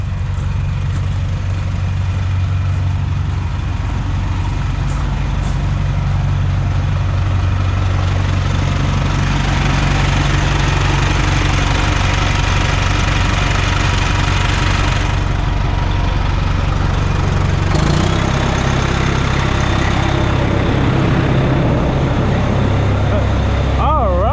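A school bus engine (the bus called "Brutus", 24V fan drive system) idles steadily and loudly for the whole stretch, a constant low rumble with a faint mechanical whine.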